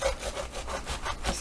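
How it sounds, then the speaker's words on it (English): A big knife saws through a head of cabbage on a flat board in a few quick, rhythmic rasping strokes, close and fairly quiet. "I'm going to take a big knife,"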